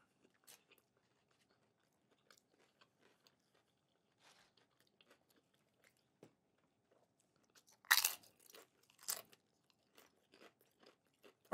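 Crunchy tacos from a late-night, affordable eatery being eaten, a few brief loud crunching bites around the middle followed by faint chewing, otherwise quiet with no talk.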